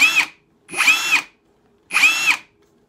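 A Ryobi hammer drill in screw mode whirs up in three separate bursts with short pauses between them, close and loud, with no talk over it.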